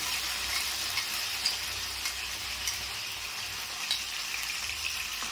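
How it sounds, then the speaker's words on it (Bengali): Marinated mutton sizzles steadily in a hot pan over a high gas flame, a dense continuous frying hiss with faint crackles and occasional stirring clicks, close and moderately loud with no talking. "এবার এই ম্যারিনেট করা মাংসটা এর মধ্যে ঢেলে দিলাম"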